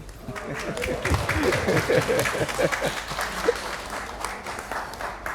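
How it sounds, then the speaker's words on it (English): An audience claps together in a steady burst during a talk on small cell lung cancer research in Detroit, with voices and crowd murmur mixed in beneath the applause. "Y'all clapping."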